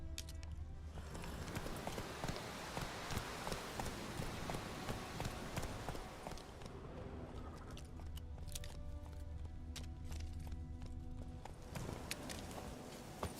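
Roach, Geralt's horse in The Witcher 3: Wild Hunt, clip-clops steadily along at a walking pace. The hoofbeats are close and clear over a dense ambient bed of wilderness sound that runs throughout.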